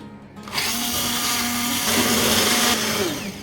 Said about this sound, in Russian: я сейчас быстренько пропущу это все через блендер